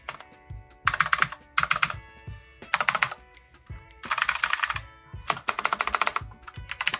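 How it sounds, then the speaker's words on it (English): An RK Royal Kludge mechanical keyboard clicks in quick bursts of typing, crisp and close, with short pauses between flurries of keystrokes and no talking. "It's got a really good mechanical sound."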